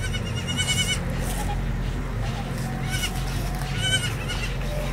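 A goat that has just given birth bleats several times, loud and close, over a steady low rumble of farm background noise in Col. Sta. Marta, El Refugio.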